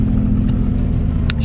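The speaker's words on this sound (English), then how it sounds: "All right, let's get a cold start." A Nissan 350Z idles just after a cold start, a loud, close, steady low engine rumble that runs on alone for the whole short stretch.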